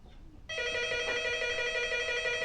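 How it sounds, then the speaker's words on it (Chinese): A telephone starts ringing after a brief quiet moment indoors, a steady electronic ring tone that holds on continuously at close range. "你接下电话"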